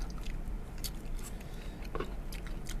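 Raw squid sashimi is chewed close up, with soft, quiet crunches and squishy bites over a steady low background hum.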